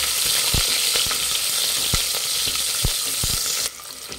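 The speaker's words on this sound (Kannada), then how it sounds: "ಈರುಳ್ಳಿ ಫ್ರೈ ಮಾಡಬೇಕು." Long-sliced onions fry in hot oil with cinnamon and fennel for a plain pulao, giving a loud, dense sizzle with sharp spoon taps every half second. The sizzle thins out suddenly near the end.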